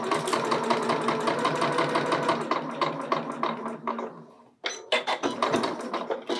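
A sewing machine stitches the side seams of a bodice's front and back facings at a half-inch allowance, a rapid steady run of close needle strokes that pauses briefly and then resumes, loud and near.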